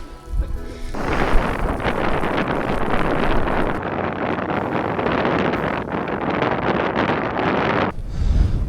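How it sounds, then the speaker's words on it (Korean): Strong, steady wind roaring across the microphone on snowy Deogyusan mountain in winter, broad and blustery, with brief calmer moments at the start and end. "바람 소리도 참 듣기 좋아."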